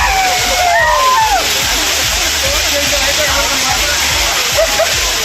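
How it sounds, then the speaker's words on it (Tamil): Water pours steadily down the Main Falls and Five Falls at Courtallam, a dense continuous roar of a waterfall close by, with faint voices of bathers and birdlike chirps mixed into the rush. "மெயினருவி, ஐந்தருவி, பழைய குற்றால அருவிகளில் நீர்வரத்து உள்ளது"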